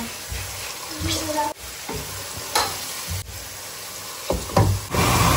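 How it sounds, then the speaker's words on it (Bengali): Half-boiled potatoes coated with salt and turmeric fry in hot oil, a steady sizzle broken by several sharp stirring knocks and scrapes of a utensil against the pan. "হাফ বয়ল করা আলুগুলোকে এখন নুন হলুদ দিয়ে একটুখানি মাখিয়ে নিয়ে ভেজে নেব।"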